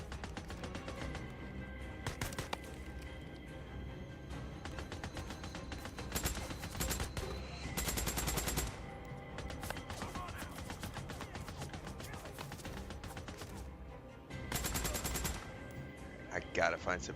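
Sustained gunfire in the zombie survival game Days Gone, with rapid machine-gun bursts and single shots repeating throughout, punctuated by louder heavy bursts and crashes; a voice speaks intermittently underneath.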